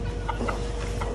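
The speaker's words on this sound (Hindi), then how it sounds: "अबे भाई ये क्यों डर रहा है मुर्गा" A rooster gives short, close clucks in a quick, brief burst over a constant low background hum.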